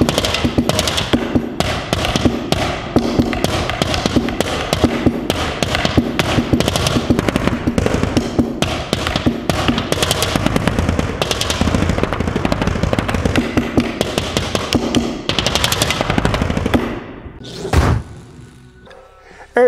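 Fast, dense drumming on spare drum heads with sharp repeated hits and cymbal-like crashes, played continuously and close, then stopping abruptly near the end.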